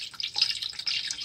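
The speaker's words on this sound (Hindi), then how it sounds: "ये 1 कप पानी डाल देती हूँ" A cup of water poured into a cooking pot of beef on a low flame gives a steady, close splashing trickle with small drip-like bursts, heard alone for about a second.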